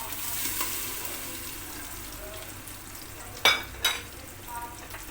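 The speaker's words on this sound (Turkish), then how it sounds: "Şimdi rendelediğim domatesi de içerisine alıyorum." Tomato paste sizzles and fries steadily in a pan, then grated tomato goes in with two or three brief, louder wet splashing bursts near the end, close by with no talking.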